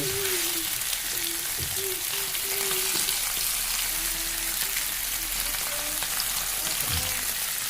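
Crushed garlic frying in a pan for a home-cooked lunch gives a steady, close sizzle and crackle with occasional stirring clatter, while a voice talks quietly over it.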